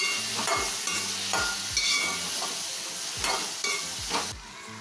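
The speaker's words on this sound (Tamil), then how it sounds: "அதுக்கப்புறம் 2 தக்காளி, ஒரு பச்சை மிளகாய் அதை இதோட சேர்த்து நல்லா மிக்ஸ் பண்ணி நல்லா தொக்கு மாதிரி வர்ற அளவுக்கு நல்லா வதக்கணும்." Tomatoes and green chili for prawn kulambu sauté in a pan, giving a soft continuous sizzle broken by rhythmic spatula scrapes and knocks, close and alone.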